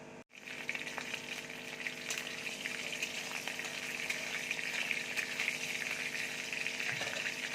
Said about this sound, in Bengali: তেল দেখো গরম হয়ে গেছে, এবার আমি গোটা জিরে দিয়ে দিচ্ছি